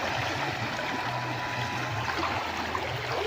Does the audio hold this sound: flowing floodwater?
yes